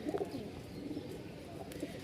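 Biscuit-coloured and coffee-coloured male pigeons coo in soft, low, repeated calls close by, their murmuring rising and falling steadily with no talk over it.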